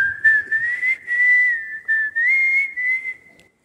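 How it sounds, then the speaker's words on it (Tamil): A person whistles a sustained, sliding song melody, clear and close with short breaths between phrases, fading out at the end, no talking. "விசில் அடிக்கிறதா இருந்தால் இந்த மாதிரி அடிக்கணும்"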